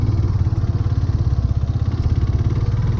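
Motorcycle ridden solo on a rough dirt and dust mountain road in Nepal, heading toward Kalinchowk, Dolakha; a close, steady engine drone with rattling clatter runs throughout, with no talking.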